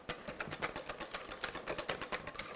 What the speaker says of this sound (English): Just add a little more cold, heavy cream right in here, and then just beat it by hand with your whisk